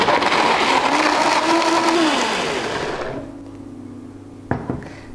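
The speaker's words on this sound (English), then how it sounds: "so we're ready to blend them all up" A blender whirs loudly through wet granola ingredients, including Himalayan salt, then winds down and stops about halfway through, followed by a short clunk of the jar or lid.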